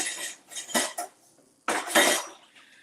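Utensils clink and clatter briefly as a whisk is picked up, two short bursts of metallic rattling near the microphone with quiet gaps between.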